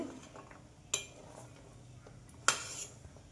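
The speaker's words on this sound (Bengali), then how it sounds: "এখন আমি এইভাবে নাড়াচাড়া দিয়ে গুড়টা কিন্তু শুকিয়ে নিব" Jaggery being stirred and dried in a pan, two sharp metallic clinks of the utensil against the pan over a faint scraping background, close and without talking.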